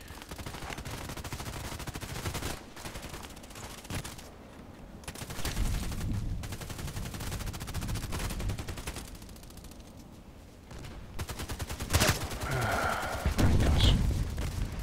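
Rapid automatic gunfire from the online shooter Contract Wars, with repeated bursts and fusillades running through most of the clip, loud and close, with brief pauses between volleys.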